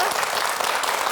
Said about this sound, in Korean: 정진호 교수님께 다시 한번 큰 박수 보내주시기 바랍니다